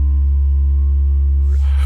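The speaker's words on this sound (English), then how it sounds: "So for this I'll just go sine wave." A deep, pure sine-wave bass note from the FL Studio 3x OSC synth plays as one loud, steady sustained tone, with a short pitch slide and click at the end, and no other sound.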